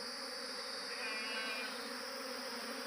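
Dense, steady hum of a honeybee swarm close around a beekeeper at his bee farm, a continuous high buzzing drone that holds throughout with no pauses.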